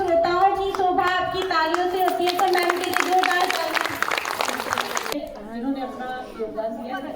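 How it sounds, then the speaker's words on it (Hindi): An audience at an Akhil Bharatiya Vidya Bharati Saptashakti Sangam programme breaks into loud, dense clapping that swells after a spoken introduction, then cuts off abruptly as talk resumes. "तो मैम के लिए जोरदार तालियां"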